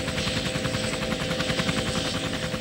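A Chiltern Air Support police helicopter overhead, its rotor producing a loud, continuous rhythmic chop with steady engine whine, close and unbroken throughout.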